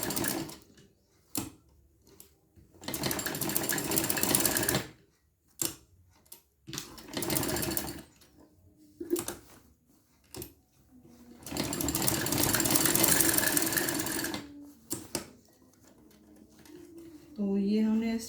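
A sewing machine stitches a striped girl's umbrella frock in several bursts of rapid, close mechanical clatter. Some runs are short and some last a few seconds, separated by quiet pauses, with light handling noise at the end.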